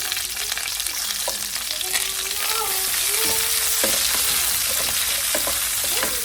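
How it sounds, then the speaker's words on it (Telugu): Chopped onions, green chillies and curry leaves hit hot oil with tempered seeds for a green beans and potato curry, sizzling loudly and steadily with occasional stirring scrapes. "ఇప్పుడు మన ఆనియన్, పచ్చిమిరపకాయలు, కరివేపాకు వేసుకుందాం"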